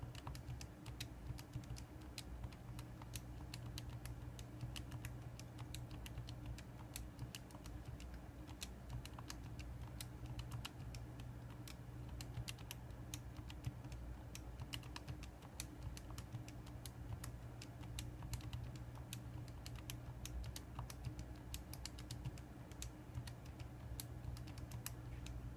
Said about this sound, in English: We'll then type in the new data set by pressing each number and then hitting Enter in between.